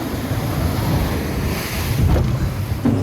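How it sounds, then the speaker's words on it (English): Rough ocean waves pound a dory boat out at sea, loud surging wash and hull slaps mixed with heavy wind rumble across the microphone, continuous with no voices. "We hit the waves, or should I say, we attacked the waves"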